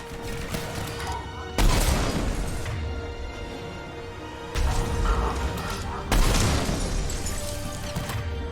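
Gunfire striking an escape pod in Mass Effect 3: three loud bursts of crackling shots and impacts, each decaying into a steady tone and low rumble between volleys.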